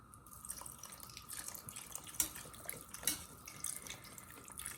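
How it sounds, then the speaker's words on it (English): Beef broth is poured into a pan of beef stroganoff, a soft trickling, splashing stream with a few small drips and clinks, faint and close. "I'm going to do about a cup of beef broth."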